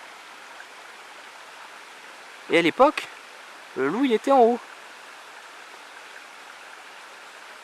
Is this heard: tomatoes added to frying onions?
no